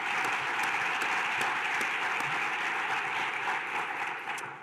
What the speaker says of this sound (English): Can we get a round of applause for the folks who put that together?